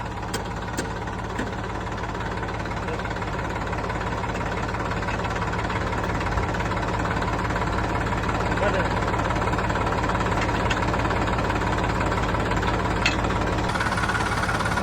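A farm tractor engine runs steadily at idle on a rural plot, a continuous low rumble with a slight knocking throb holding at a constant level throughout, with a person talking over it.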